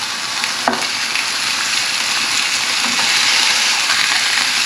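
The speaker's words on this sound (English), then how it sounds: "Don't overcrowd your pan when you're doing this, because it can stop the meat from browning" Meat browning in a hot frying pan for Welsh cawl, a steady close sizzle and crackle of frying that holds throughout with no speech.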